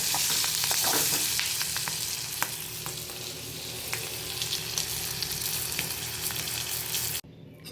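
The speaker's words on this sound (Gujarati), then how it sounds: "આ રીતે સરખું બધાય મરચાં ઉપર તેલ ચડી જાય એ રીતે સાતળી લેવાના છે." Stuffed green chillies sautéing in oil in a pan, a dense steady sizzle with occasional stirring clicks, close and alone, cutting off abruptly near the end.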